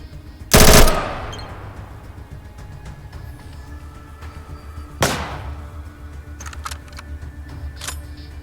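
SMG fire in ATOM RPG, aimed as body shots: one loud, short burst near the start, a single sharper report midway, then faint clicks and small taps over a low game background hum.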